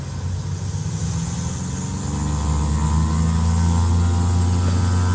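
An engine driving a force feedback flight simulator rig is throttled up, its steady low hum and harmonic drone growing gradually louder and stronger over several seconds.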